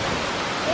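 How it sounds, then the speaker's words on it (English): Water pours steadily down a water wall in a well-kept bamboo garden on a community college campus, making a brief, even, close rush of splashing noise. "like a wall of water over there"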